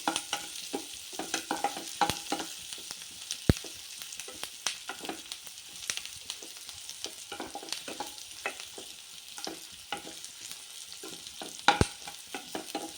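A steady sizzle of tomatoes sautéing in a pan, with occasional scraping and stirring clicks, close and continuous, no voices.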